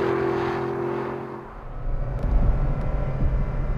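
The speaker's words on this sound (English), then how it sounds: "This is the Corvette ZR1. This is the most expensive, most powerful, fastest, baddest, most ridiculous Corvette ever made." A Chevrolet Corvette ZR1 engine idles with a steady harmonic hum, then revs up into a louder, rough, rumbling roar that holds for a couple of seconds.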